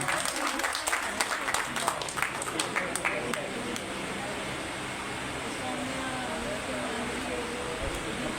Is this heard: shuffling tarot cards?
no